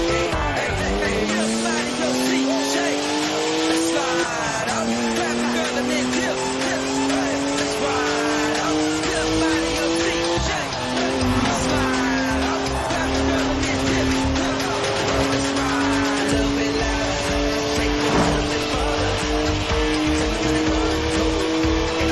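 Long, loud tire squeal from a BMW drifting in Forza Horizon 4, rising whining tones sliding up and down over a roaring engine, continuous for about twenty seconds with brief shifts in pitch.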